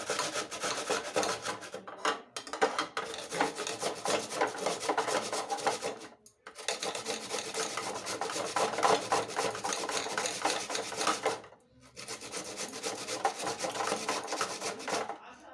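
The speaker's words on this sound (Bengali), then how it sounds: "পুরো আলুটাকে ম্যাশ করে নিতে হবে।" Boiled potato mashed steadily with a hand masher, a continuous close rasping and rubbing that runs without pause apart from two short breaks, with no talking over it.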